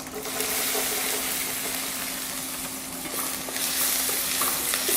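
Steady, loud sizzling of chopped onions frying in hot oil after mustard seeds, a continuous crackling hiss with occasional stirring sounds and no talking.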